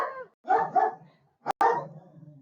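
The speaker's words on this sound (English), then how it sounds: "My apologies for the dogs in the background." Several dogs bark nearby in short bursts, a few quick woofs followed by a sharper yelp and a trailing whine, with no talking over them.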